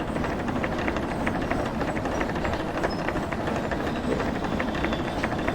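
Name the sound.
steam locomotive chuffing along in Derail Valley VR video game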